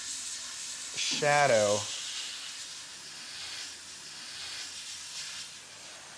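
A dual action airbrush sprays paint onto a sculpture with a soft, steady hiss that runs throughout, briefly interrupted by a single spoken word.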